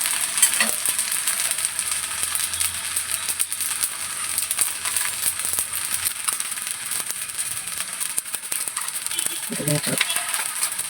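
Elanji ada snack cooking on an iron dosa griddle gives a steady, broad sizzle and frying hiss throughout, with a few light clinks and scrapes near the end.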